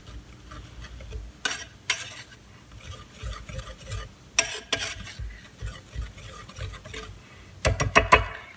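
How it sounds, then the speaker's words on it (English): A utensil mixes dry ingredients for Lebanese meat pie (fatayer) dough in a bowl, including instant milk. Scattered bursts of scraping and tapping rise over a low background, and the strokes grow quicker and louder near the end, with no voices. "And that's it for the dry ingredients. I'm just gonna give this a mix."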